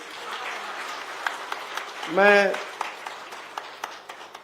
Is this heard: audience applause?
yes